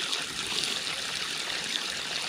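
Water from a tractor-trailer tank pours steadily into a tree's drainage pipe in a walnut orchard, making a constant close hissing, splashing flow with no voices.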